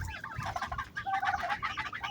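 Geese and turkeys kept on a farm call out close by in a continuous run of honks and gobbling clucks, with no talking.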